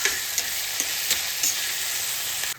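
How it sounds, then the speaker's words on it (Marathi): Chopped onion and tomato fry in oil in a pan with a bright, continuous sizzle. A few light spoon taps and stirring knocks come through before the sound cuts off. "कांदा टोमॅटो परत आपण तेलावर मस्त शिजून घेऊ."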